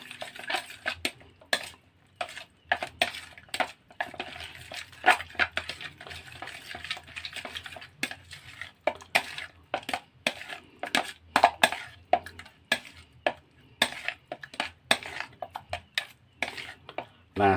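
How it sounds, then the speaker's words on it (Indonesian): Catfish bait mixture with chicken meat being kneaded and stirred by hand in a container, giving repeated squelching, crunching strokes in an irregular rhythm, close and fairly loud, with occasional talk between them. "Kemudian dikucek-kucek lagi, diaduk-aduk lagi."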